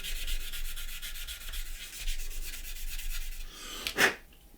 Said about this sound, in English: we'll just sand that little profile out, just like that, in with our sander